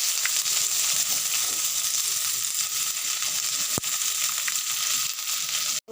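Mustard seeds, curry leaves and onion fry in hot oil for potato poriyal, producing a constant close hiss with scattered crackles, one sharp knock near the end and no voices.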